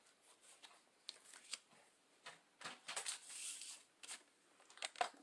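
Cardstock pieces scored on a scoreboard for a scrapbook album, giving short scraping and rustling strokes in quick irregular bursts, close by, with light handling noise between them.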